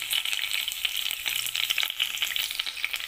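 Green chillies and seven or eight curry leaves crackling in warm oil, a loud, close, bright sizzle full of rapid pops and spits that carries on without a break.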